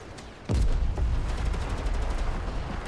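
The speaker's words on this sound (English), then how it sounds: "a ear-splitting alarm goes off in the northwest, followed by a vicious burst of gunfire" A vicious burst of gunfire erupts after an alarm in the video game Girls Frontline 2: Exilium, a sudden loud blast followed by a sustained rumbling volley of shots.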